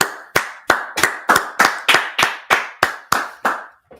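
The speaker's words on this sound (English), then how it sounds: "All right, let's clap it up" A group claps in tight unison at an Israelite School of Universal Practical Knowledge gathering, about a dozen sharp, loud claps in a steady, brisk rhythm with no talking.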